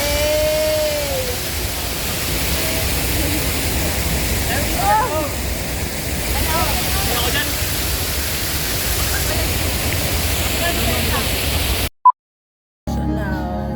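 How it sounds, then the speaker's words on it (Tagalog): A large waterfall at the Villa Filomina natural spring resort gives a constant broad rushing roar, loud and steady, with faint voices and bird-like chirps beneath before a sudden cutoff near the end. "nandito tayo sa pinakamalaking falls sa buong mundo."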